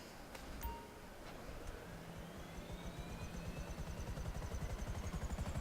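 A helicopter in the video game GTA V spools up with faint, rhythmic rotor chopping that grows steadier and slightly stronger, with a few brief chimes near the start.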